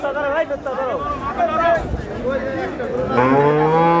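A young calf lows at a busy Hozrotpur cattle market, a rising harmonic moo near the end following earlier bellows, close and loud over steady crowd chatter and voices.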